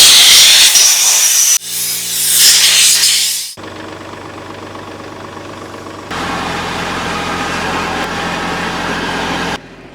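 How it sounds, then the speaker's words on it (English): Compressed air blasting through the cooling fins of a tractor radiator: loud bursts of rushing, hissing air, with an engine running steadily underneath throughout. "I'm just going to clean this out with compressed air, just to make sure I'm getting maximum airflow here through my cooling fins"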